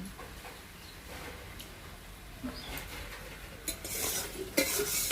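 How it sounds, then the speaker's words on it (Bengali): Chopped taro is stirred in a pan with turmeric and salt, giving soft scraping and clinking of a utensil against metal with a faint sizzle beneath, growing a little louder toward the end. "তো আরেকটু নাড়াচাড়া করে আমি এখন দিয়ে দেবো এখানে হলুদ আর লবণ"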